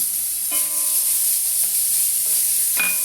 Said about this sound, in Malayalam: ഇനി നമുക്ക് ഇതിലേക്ക് നമ്മൾ ഗ്രേറ്റ് ചെയ്ത് വെച്ചിരുന്ന ക്യാരറ്റാണ്, അതും ഇതിലേക്ക് ഇട്ട് കൊടുക്കുകയാണ്.